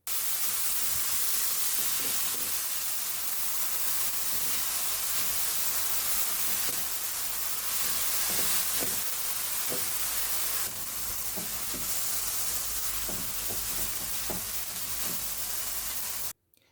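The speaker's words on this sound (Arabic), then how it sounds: "البصل انا حطيته مع الفلفل في الكبة، فهضيفه هنا واقلب عليهم" Onions and peppers sizzle in hot oil in a pan, a steady loud hiss with faint stirring clicks underneath, continuous for the whole stretch and then cutting off abruptly.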